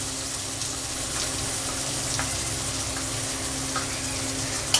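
Tomato and ground spices frying in a pan for a Bengali rohu fish curry with potatoes and bitter gourd, a steady close sizzle continuing throughout with a few faint clinks.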